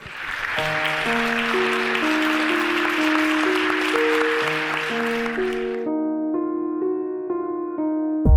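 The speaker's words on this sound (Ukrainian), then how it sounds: "Ваші оплески." Audience applause at a fashion show runway, a continuous wash of clapping over a melodic music track, the clapping dropping away partway through while the music carries on alone.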